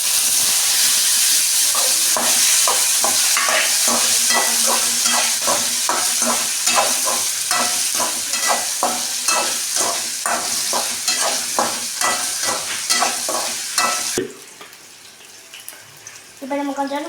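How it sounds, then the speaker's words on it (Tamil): Potatoes sizzle in hot oil with mustard seeds, with repeated rhythmic scraping stirs close by, loud and steady before cutting to a quieter moment with light clinks. "இப்போ நம்ம உருளைக்கிழங்கு கொட்டலாம்."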